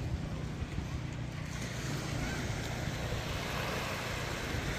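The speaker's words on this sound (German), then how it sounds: "Mit jeder Welle kommt das hier echt angeschossen." Sea waves rush steadily onto a beach, a loud continuous wash of surf with heavy wind buffeting the microphone throughout, no clear breaks between surges.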